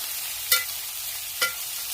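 Onions fry in a pan for egg curry, a steady close hiss broken by two sharp scraping stirs of a spoon against the pan.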